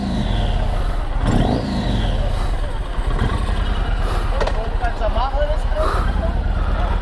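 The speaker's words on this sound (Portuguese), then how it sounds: "se liga no ronco do motor," A Yamaha MT-01 1670cc motorcycle engine rumbles loudly and close up, revving and throbbing steadily the whole time while a voice talks over it.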